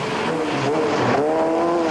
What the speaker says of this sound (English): a new car for 2004 champion Jason West, who takes over the Suzuki Ignis run by Emma Gilmore in Targa NZ